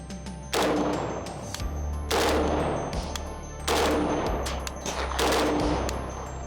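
A 5.56 AK-style rifle fires rounds into a dirt target outdoors in four loud, rapid bursts, each a dense chatter of shots separated by brief pauses.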